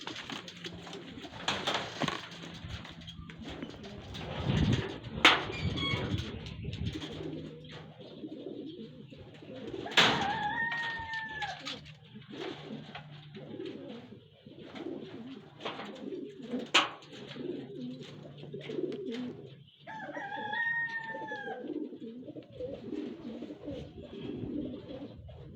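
Racing pigeons at the finish of a derby race in Candelaria, Quezon, cooing and fluttering close by over a busy background of movement and faint voices, with a few clear rising calls standing out.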